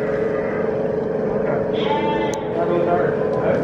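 A sheep bleats repeatedly, with a higher, younger-sounding lamb's call near the middle, over steady background noise and a person talking nearby.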